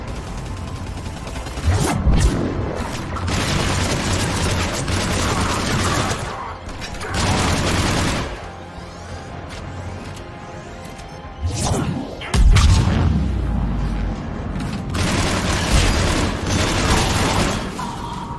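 Heavy booming blasts and crashing impacts erupt in bursts, loud and chaotic, with whooshes and mechanical clatter between them, like cannon fire in a battle in Mass Effect 3's Omega DLC.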